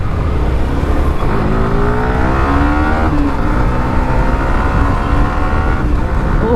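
A Kawasaki Z900 motorcycle exhaust revs loudly and steadily close by, its engine note climbing in repeated rising sweeps over a constant roar with no talk.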